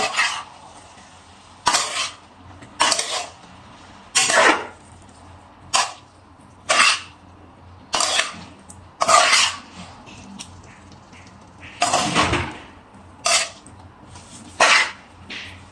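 Restaurant-style vegetable and egg fried rice is tossed and mixed in a pan, giving about a dozen sharp metallic scrapes and clanks of a spoon against the pan at a steady, uneven rhythm, close and clear with no talking.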